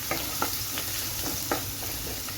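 Finely chopped ginger and garlic sizzle in hot oil in a pan for a curry, a steady bright hiss broken by a few sharp stirring scrapes and clinks, close and unaccompanied by talk.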